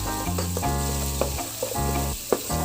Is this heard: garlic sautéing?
yes